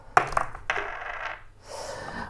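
A small die rolls and tumbles across a hard surface during a tarot card reading, giving a few quick, close clattering clicks with no talking.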